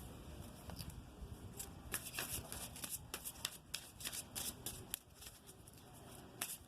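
A tarot card deck is shuffled by hand close up, with repeated quick riffling bursts and crisp card slaps in an irregular rhythm, quiet and without talk.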